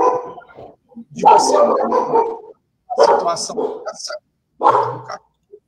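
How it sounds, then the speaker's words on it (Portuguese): A dog barks loudly nearby in repeated bursts, mixed in with people talking. "Tem um cachorro latindo aí."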